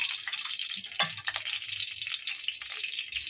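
Mustard oil heating in a wok, a close, steady crackling sizzle with scattered pops throughout.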